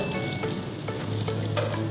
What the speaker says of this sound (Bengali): এদিকে দুটা মোচা ভাজা হয়েছে ওদিকে দুটা বসিয়ে রাখছি আর দুটা আছে ভাজার জন্য